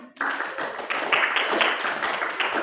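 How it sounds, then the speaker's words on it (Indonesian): A classroom of students clapping hands together in a school lesson, a brief burst of lively, uneven clapping that starts abruptly and continues at moderate volume to the end. "Tepuk tangan."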